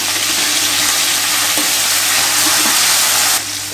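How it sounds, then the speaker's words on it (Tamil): Cashews, green chilies and curry leaves frying in hot oil for variety rice, giving a loud, steady, close sizzle that continues throughout with light stirring and no talk. "இந்த முந்திரியை சேர்த்துருங்க, பச்சை மிளகாயை சேர்த்துருவோம்"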